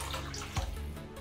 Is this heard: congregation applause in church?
no